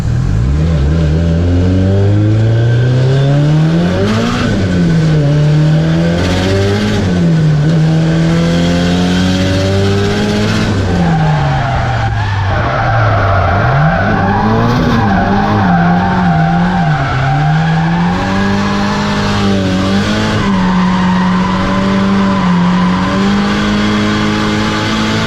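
Drift cars skid around Silverstone during a British Drift Championship round, with loud continuous engine revving rising and falling alongside sustained tire squeal for the whole stretch, no voices.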